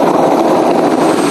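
An evacuation helicopter flies flood-stranded residents out of Theodore, Queensland, its rotor and engine a loud, steady, close roar without a break.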